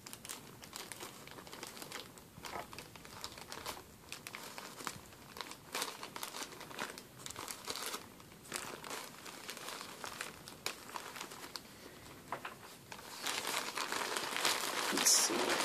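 A new package being cut open and unwrapped, with irregular crinkling, tearing and crunching of packaging close up, a burst of louder rustling near the end.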